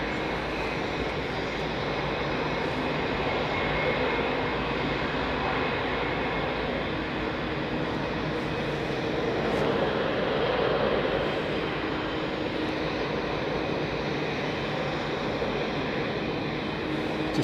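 An airliner with Rolls-Royce Trent engines taxis up to the runway holding line at London Heathrow, its steady engine roar and whine droning continuously at moderate distance.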